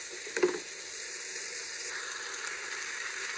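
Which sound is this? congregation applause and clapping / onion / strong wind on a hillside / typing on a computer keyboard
onion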